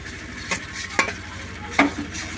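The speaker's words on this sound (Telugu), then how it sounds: "బాగా కలిపెట్టాలి, నూనె అంటుకోవాలి మ్యాగీకి ఎక్కువ. ఇలా కలిపెట్టుకుంటూనే ఉండాలి" Maggi noodles stirred in oil in a pan, a steady sizzle with three distinct scraping strokes of a utensil against the pan, close and fairly loud.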